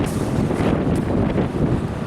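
Strong wind gusting along a New York City street, a constant loud rushing roar buffeting the microphone with no voices.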